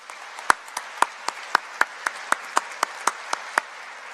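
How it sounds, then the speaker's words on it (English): Applause at a Touro University Nevada medical school white coat ceremony, led by one nearby pair of hands striking sharp, evenly spaced claps over a softer bed of crowd clapping. "Round of applause for everyone."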